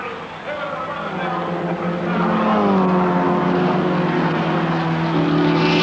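Group N touring race cars lap the Sandown circuit, engines rising and holding a high, steady wail as they pass, while a commentator talks over the noise throughout.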